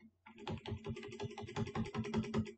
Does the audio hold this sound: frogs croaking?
no